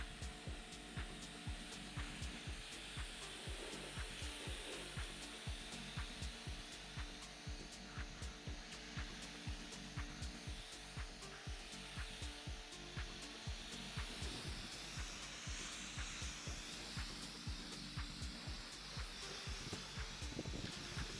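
A pressure washer rinses a car from the bottom up, its motor droning steadily with a fast, regular pulsing beneath the hiss of spraying water.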